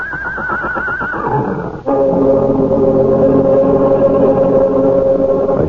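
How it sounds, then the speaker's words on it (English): A horse neighs loudly in a radio drama, a wavering whinny for about two seconds giving way to a sustained, harmonically rich tone that holds to the end, with no voices. "the huge horse, his ears flat against his skull, his eyes rolling wildly at the farmer"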